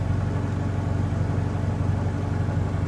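A VW Mk2 Scirocco with a 1.8T 20v engine idles very low and steady, its deep rumble continuous and close with no revving.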